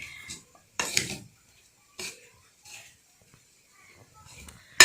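Vegetable achaar being stirred together with ground spices and turmeric in a pot, giving a few separate scraping clinks and clatters of a spoon against metal with quiet pauses between them.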